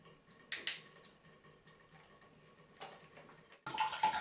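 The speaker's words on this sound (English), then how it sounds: "I placed a pot under the faucet so she wouldn't be distressed by the water coming toward her." Faucet water runs into a pot set in a bathtub, heard faintly as short splashing bursts that become a steadier gush near the end, in a quiet room.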